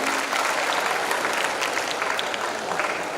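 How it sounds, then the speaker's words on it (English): A university audience at an engineering and technology event applauds its students, giving a steady, dense wash of many hands clapping at a moderate distance throughout. "you should have a round of applause for yourself for being such amazing students here"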